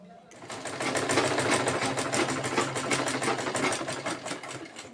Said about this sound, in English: then you're going to sew